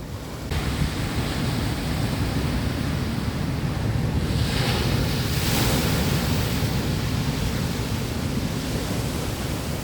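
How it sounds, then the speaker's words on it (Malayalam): Strong sea waves and gusty wind on the Kerala coast form a loud, steady roar of surf mixed with wind buffeting the microphone, unbroken throughout. "ഉയർന്ന തരത്തിൽ കാറ്റ് വീശുന്നതിനാൽ തീരങ്ങളിൽ ശക്തമായ തിരമാലകൾക്ക് സാധ്യത കൂടുതലാണ്"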